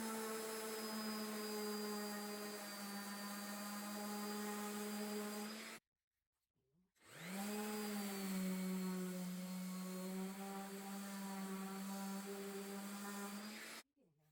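Orbital sander run against its worn hook and loop pad during a DIY repair, a loud steady motor whine with strong harmonics, cutting out for about a second midway and then spinning back up, alone without talk.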